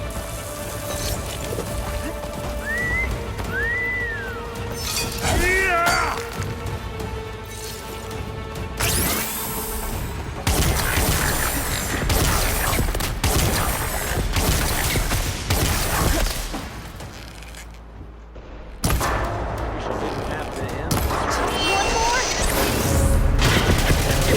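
Bursts of gunfire and crashing impacts from combat in the video game Horizon Forbidden West, mixed with machine whirs, tones and other game effects in a loud, dense battle scene.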